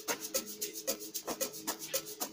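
Doubled string sample, hot purity strings from B-Way packs, playing in FL Studio Mobile on a kavalungu-style beat, with sustained tones under a steady pattern of bright, raspy percussive hits.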